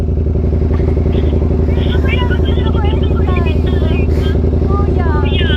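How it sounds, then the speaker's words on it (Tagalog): Ducati big bike motorcycle running steadily at close range with a loud, continuous low engine drone, while people talk over it throughout. "Motor lang naman to na pinalaki."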